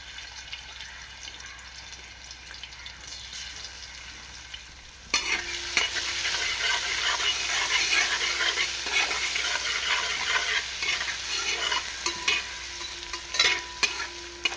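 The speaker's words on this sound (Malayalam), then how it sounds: "വെളിച്ചെണ്ണ ഒന്ന് ചൂടായി കഴിയുമ്പോൾ അതിലേക്ക് നമ്മൾ ഇഞ്ചി വെളുത്തുള്ളി ചതച്ച് വെച്ചതാണ് ആദ്യം തന്നെ ചേർത്ത് കൊടുക്കുന്നത്" Crushed ginger and garlic hit hot coconut oil at about five seconds, setting off a loud, steady sizzle that carries on with faint stirring scrapes and no voices.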